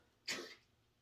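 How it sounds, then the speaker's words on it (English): A single short, sharp sneeze from a dog, close by, followed by quiet. "That was my dog sneezing."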